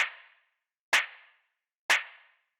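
Three crunchy, processed hand-clap drum samples for lo-fi house, evenly spaced about a second apart, each a sharp crack with a short decaying tail, alone and close.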